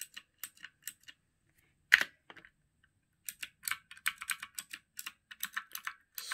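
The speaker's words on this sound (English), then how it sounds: "just use the arrows on the keyboard" Keys on a keyboard connected to a Samsung Galaxy S21 phone are tapped in quick, sharp clicks, a few spaced presses, a brief pause, then faster bursts, close and clear with no speech.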